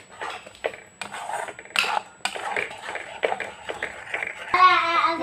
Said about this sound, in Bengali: একটু কষাবো আমি।